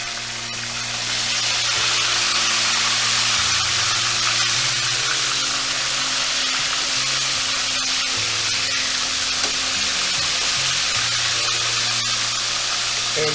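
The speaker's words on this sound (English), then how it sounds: "You want these to fry for about 4 minutes on each side." Cubed steaks fry in a pan with a loud, steady, close sizzle and hiss that holds unbroken for the whole stretch, with no talking over it.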